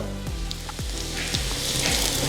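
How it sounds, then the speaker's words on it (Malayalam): Pappadam drops into hot coconut oil and puffs up, with a bubbling sizzle and several low thuds or pops in quick succession over a brief stretch. "നമ്മുടെ വെളിച്ചെണ്ണ നന്നായി ചൂടായി വന്നിട്ടുണ്ട് നമ്മുടെ പപ്പടം നമുക്കൊന്ന് ഫ്രൈ ചെയ്യാനായിട്ട് വെളിച്ചെണ്ണയിലോട്ട് ഇട്ട് കൊടുക്കാം"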